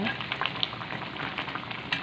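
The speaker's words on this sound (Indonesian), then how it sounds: "Dan ini sudah mulai mendidih ya teman-teman, tuh kepala kakapnya." Red snapper fish head curry with coconut milk starting to boil in a pan, a steady quiet bubbling sizzle with small pops throughout.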